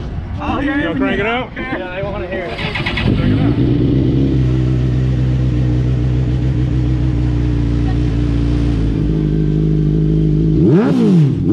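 A 2006 Gixxer 1000 motorcycle engine fitted in a custom car at a car show, revving up to a loud sustained high-rpm roar, then dropping away, after brief talk nearby.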